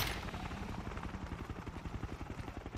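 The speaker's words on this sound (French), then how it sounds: "de prendre son hélicoptère pour aller filmer des images" A helicopter in the Ghostbusters PC game thuds with rapid, even rotor chops, a steady pulsing beat close by with no voices.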